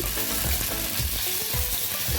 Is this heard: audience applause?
no